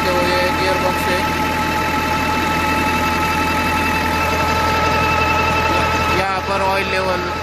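A tractor PTO-driven generator runs with a loud, steady mechanical drone and hum, with a voice talking over it.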